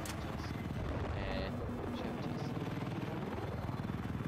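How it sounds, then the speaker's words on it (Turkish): Enemy helicopter in Battlefield 4, a steady rotor drone and buzz filling the battlefield mix, with game effects and player talk over it. "Rakip helikopter nerede?"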